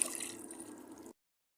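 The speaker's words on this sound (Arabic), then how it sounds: "اخواتي بعد ما حطينا الزهرة على اللحمة والثوم والكزبرة بنضيف مي" Water poured into a pot over cauliflower florets, meat, garlic and coriander, a steady splashing pour running for about a second before stopping abruptly, close and moderately quiet.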